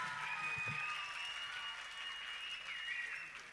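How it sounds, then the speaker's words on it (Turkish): An audience at a live event applauds continuously, a steady wash of clapping from a crowd with no talking over it. "kocaman bir alkış alalım"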